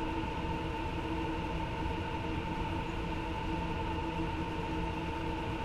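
Electric locomotive BR 187 in Train Sim World 2 on the Spessart Rampe incline, a steady continuous hum of traction motors and rolling wheels with constant tonal whine, no speech.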